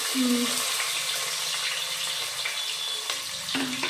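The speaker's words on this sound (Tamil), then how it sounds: "நல்லா வதக்கி விடுறோம்" Onions, garlic and curry leaves sautéing in oil in a pan give a continuous hissing sizzle close by, broken by a couple of brief tonal squeaks.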